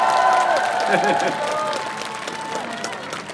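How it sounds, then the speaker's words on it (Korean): A crowd at an outdoor presidential campaign rally at Chuncheon Station applauds in a dense wash of clapping, with cheering and voices mixed in, steady and loud, then easing slightly. "응원의 박수 부탁드립니다"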